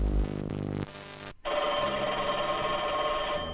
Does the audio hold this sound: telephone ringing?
yes